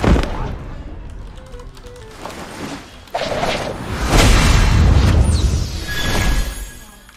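A new firearm fires in Rules of Survival during loud, busy gunfire, with bursts and booms building past the three-second mark amid whooshing game effects.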